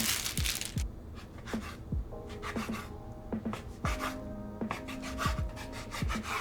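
A knife slices flour tortillas into strips, making a run of quick, close cutting strokes, each a crisp scrape ending in a soft knock against the board, spaced at an uneven rhythm.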